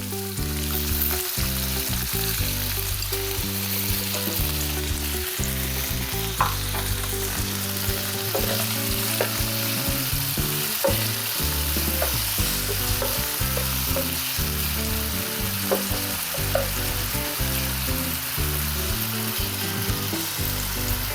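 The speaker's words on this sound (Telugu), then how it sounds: "ఇది కొంచెం ఆలు మంచిగా ఫ్రై అవ్వాలి" Diced potatoes fry in oil for sabudana khichdi, a steady loud sizzle with stirring and scraping running throughout, no voices.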